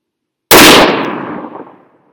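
A single 6.5 Creedmoor rifle shot cracks out loud and sharp outdoors, followed by a rolling echo that fades over about a second and a half.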